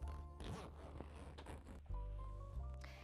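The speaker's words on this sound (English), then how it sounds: "And then you'll just zip it on." A fabric enclosure panel being zipped onto a Denago Nomad XL golf cart, with close, loud zipper rasps in a few continuous pulls and a short pause between them.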